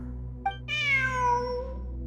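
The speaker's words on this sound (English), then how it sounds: "Look! A cat!" A single clear meow from a cat in the video game Genshin Impact, close and alone over a quiet ambient hum.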